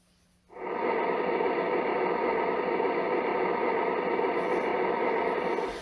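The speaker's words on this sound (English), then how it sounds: "So I'm gonna play pink noise and I'm gonna start measurement again." A broad, steady hiss of pink noise switches on abruptly and holds at constant loudness for several seconds, loud and even.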